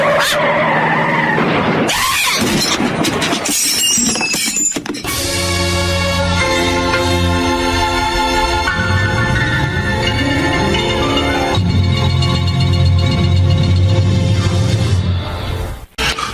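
A car swerves with long, loud screeching tire skids that build steadily before a crash, the squeal dominating alongside engine noise until an abrupt cutoff at the end.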